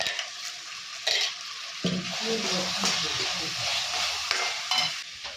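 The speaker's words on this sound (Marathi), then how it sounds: "आणि ह्याला तेल सुटेपर्यंत हे परतायचं आहे" A masala paste with onion-garlic spice sautés in oil in a pan for a prawn curry, a continuous sizzle with repeated spoon stirs and scrapes close by.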